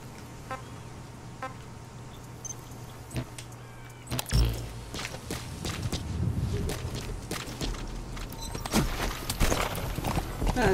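A horse's hooves clip-clop across ground in the Metal Gear Solid 5: The Phantom Pain video game, a run of irregular hoof hits growing busier and louder with game noise mixed in.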